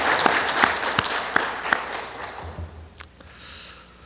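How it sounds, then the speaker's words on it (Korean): A church congregation at Sunday service gives the choir a round of applause, brisk clapping with distinct close claps that fades out after about two and a half seconds, leaving quieter room sounds. "힘찬 박수 우리 한번 드릴까요?"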